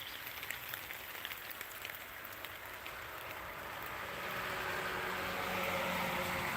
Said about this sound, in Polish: jestem w warunkach polowych wali deszcz